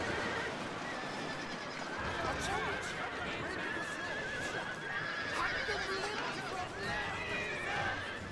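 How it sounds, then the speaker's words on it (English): Cavalry clash in the video game Shogun 2 Total War, with horses whinnying and neighing repeatedly over a dense, steady roar of battle and hooves that carries on without pause. "So there's a nice cav fight going on."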